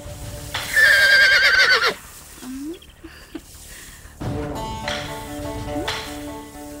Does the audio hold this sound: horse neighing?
yes